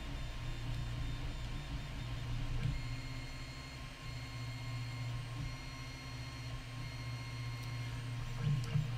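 A SainSmart Ender 3 Pro 3D printer runs with its stepper motors whining and its cooling fan humming, making a steady close drone with faint tonal whine and small mechanical ticks throughout.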